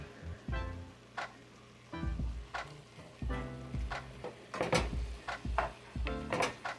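A spoon stirs chili with beans, ground beef and tomato paste in a pot over heat, giving repeated thick, wet scraping strokes in an uneven rhythm with a faint sizzle between them.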